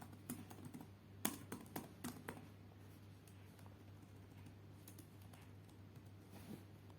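Quick keystrokes on a computer keyboard, a short burst of several taps near the start, then quiet with a steady low hum behind.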